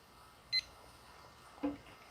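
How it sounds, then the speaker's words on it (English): A cooking timer chirps twice while a ribeye steak grills on a barbecue: one short high beep, then a second lower blip about a second later, both faint against quiet surroundings. "Start my timer."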